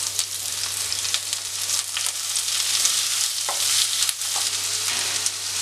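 Shallots and half an onion sizzle steadily in hot oil in a pan for a Kerala-style roasted-coconut prawn curry, a dense continuous frying hiss with occasional stirring scrapes, close and alone.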